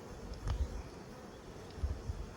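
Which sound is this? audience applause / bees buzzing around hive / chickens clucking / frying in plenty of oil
bees buzzing around hive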